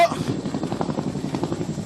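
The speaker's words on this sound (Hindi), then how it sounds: "ये हेलीकॉप्टर की एक और क्षमता दिखाता है" An Indian Air Force military helicopter hovers a few metres above the ground, its rotor giving a steady, rhythmic thumping beat over a low engine roar that holds throughout.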